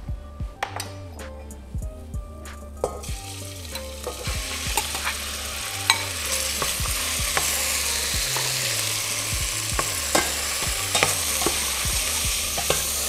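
Minced meat for moussaka hits a hot pan and is stirred, bringing a growing, steady sizzle with repeated clinks and scrapes of a utensil against the pan over a low background hum.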